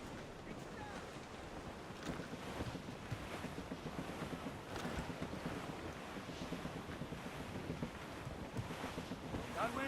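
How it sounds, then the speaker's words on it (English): Wind at sea in Assassin's Creed Rogue, a steady loud rushing gust with buffeting microphone-like noise and washing waves around a sailing ship, continuous throughout. "That wind's trouble, Captain Cormac."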